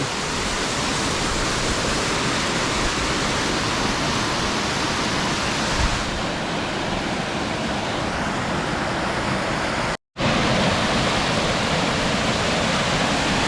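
A loud natural waterfall in Utah roars as a dense, unbroken wall of rushing water close by, steady throughout apart from one very brief dropout.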